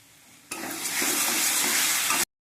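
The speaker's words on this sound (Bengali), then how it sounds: "জিরে, ধনে, তেজপাতার গুঁড়ো দিয়ে এবার কষিয়ে নেবো ভালো করে" Chili, cumin, coriander and bay leaf powders hit hot oil for a fish curry. A sudden, loud, even sizzle bursts in, holds for under two seconds, then cuts off.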